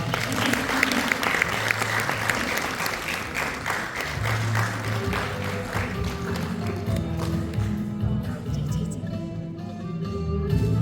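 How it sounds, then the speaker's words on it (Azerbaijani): An audience applauds at a jubilee celebration stage show, with a burst of dense clapping that gradually thins and fades as sustained musical tones begin to emerge underneath. "Alqışlar."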